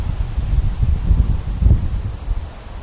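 Strong wind buffets the microphone across an open field, a steady low roaring rumble with gusting swells throughout and no talk.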